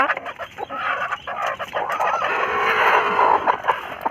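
Chickens cluck and squawk steadily at close range, a busy continuous flock noise with no talking.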